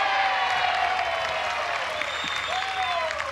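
A softball crowd at a Texas A&M vs Arizona State NCAA game cheers and applauds throughout after a fan snags a foul ball in the stands, with a steady roar of many voices and clapping.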